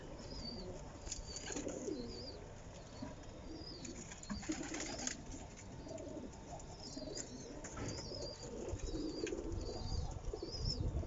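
Several pigeons of mixed breeds, including King and Lakkha fancy pigeons, coo steadily in a loft, with occasional wingbeats and soft chirps over a constant low murmur of birds nearby.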